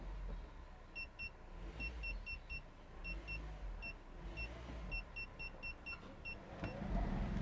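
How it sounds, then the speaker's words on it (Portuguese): A shock absorber test machine shakes a Honda Civic to simulate a rough, potholed road, giving a steady low rumble under a string of short, evenly spaced electronic beeps; no one speaks. "agora nós vamos colocar na máquina de teste para fazer a simulação dos amortecedores"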